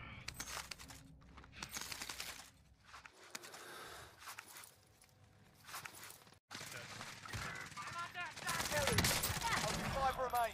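Gunfire in the Call of Duty Rebirth Island video game, bursts of rapid shots and scattered single cracks over in-game noise and footsteps, growing denser toward the end, with voices talking throughout.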